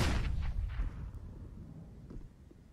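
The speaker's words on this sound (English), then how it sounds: "Exchange of nades, Molotovs and HEs, back and forth we go" Grenade and Molotov exchange in Counter-Strike on the Vertigo map, a loud booming blast at the start that decays into low rumble, with a faint second thud later.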